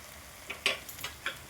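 Egg curry masala paste with salt, chilli powder and garam masala stirred in a pan, giving a few quick spatula scrapes and clicks over a quiet sizzle, with no speech.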